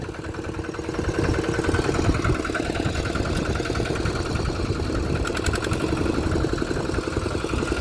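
Tractor engine running in a rice field during harvest work, a steady, fairly loud mid-to-low rumble with rhythmic knocking that rises after the first second and continues evenly throughout, with no talk.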